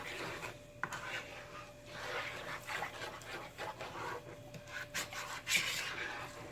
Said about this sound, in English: Now I'm gonna add my polenta. And at this point, you are not going to leave this alone. Just keep stirring.